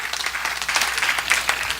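An audience at a live podcast recording applauds, dense hand clapping at close range that holds steady for a couple of seconds.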